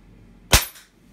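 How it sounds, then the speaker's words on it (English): A single sharp gunshot, loud and close, fired over a chronograph for speed measurement, with a short decaying echo after the crack. "Third shot."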